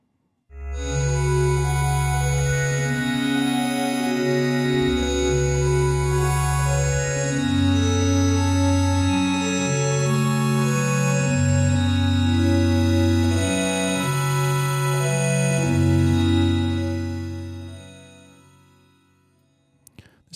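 Access Virus synthesizer wavetable patch with a very fast LFO fluttering the oscillator, playing a loud sustained sequence of bass and chord notes that shift every couple of seconds, then fading out alone.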